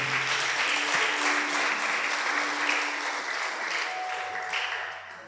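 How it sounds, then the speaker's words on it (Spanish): A church congregation bursts into steady, dense applause, filling the room evenly and fading slightly toward the end, with no talk over it. "Dale un fuerte aplauso a Dios."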